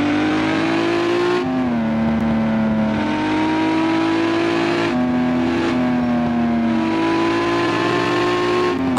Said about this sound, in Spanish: Estoy pasando a la par de otro auto fantástico.